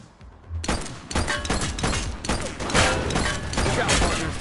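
Bursts of gunfire crackle through a police action scene in the video game The Precinct, with repeated loud, dense volleys and voices partly buried in the noise.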